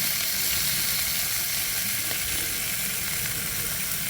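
Steady, dense sizzling of applewood bacon frying on a hot griddle, a continuous crackling hiss throughout with no talking.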